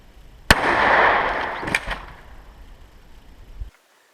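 A shotgun fires armor-piercing ammunition at body armor: one sharp, loud blast followed by a fading rumbling tail and a fainter secondary crack before the sound cuts off.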